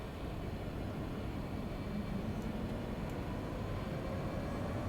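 Airliner engines roar in a flight simulator during the takeoff roll. The rumble is faint and steady, with no speech.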